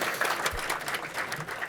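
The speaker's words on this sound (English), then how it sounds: "Let's give Craig a round of applause," An audience at a congressional breakfast applauds, a steady patter of many hands clapping at moderate loudness, heard alone without talk.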